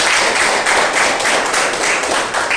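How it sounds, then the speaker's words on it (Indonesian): A junior high school class claps for a student group, a dense burst of many hands applauding together at close range for a few seconds. "Tepuk tangan buat kelompok 3."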